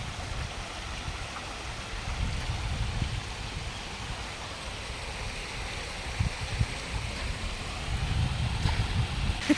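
Steady, broad rush of water pouring over a river dam weir, a continuous roar with gentle surges and no voices.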